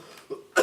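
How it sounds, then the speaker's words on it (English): A person coughs twice, a short muffled cough followed by a sharper, louder burst close to the microphone, with no talking. "Still got that cough."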